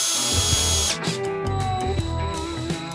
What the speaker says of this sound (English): we'll kind of drill that one out and drill that spot out